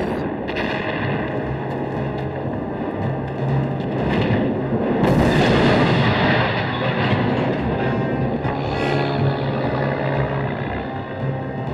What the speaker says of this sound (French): Les Allemands tirent 1 million d'obus le premier jour.